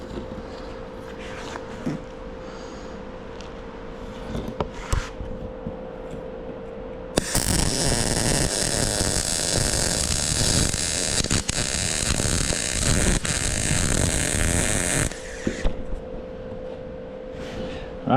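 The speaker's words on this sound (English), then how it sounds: "I'm gonna weld this side and this side." Arc welding on a homemade rod holder: a loud, steady crackling hiss runs for about eight seconds in the middle, with quieter hum and workshop noise before and after.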